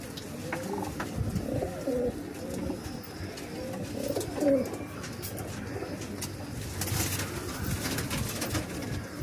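Several pigeons coo in a busy loft, overlapping low rolling calls that run continuously, with one louder nearby coo standing out midway and a dense background of birds throughout.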